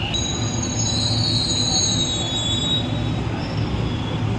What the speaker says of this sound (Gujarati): આપણે આવી ગઈ મેટ્રો